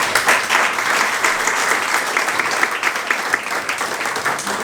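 A crowd at a fundraising gathering for Armenian soldiers claps steadily and loudly throughout, a dense, even wash of applause with no break.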